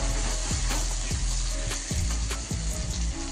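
A spice paste of ginger, onion, garlic, turmeric, chili and cumin sizzles loudly in a hot pan over melted tomato, with steady close frying hiss and several low knocks from stirring spaced through it.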